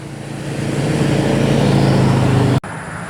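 Steady roar of traffic on a road, a car passing close by and loud, building over a few seconds and then cut off abruptly near the end.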